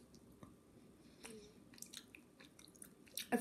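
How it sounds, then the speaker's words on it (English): Chewing a frozen sour key gummy candy, close, quiet moist munching and squishing with a few sharper bites toward the end. "I feel like I'm munching on a bone."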